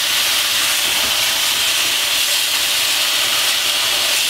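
Beef stir-fried with orange pepper and oyster sauce in a hot pan gives off a loud, steady, close sizzle, a continuous hissing roar with no pauses or talking.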